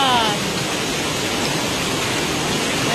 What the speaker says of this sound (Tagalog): ang lakas ng ulan today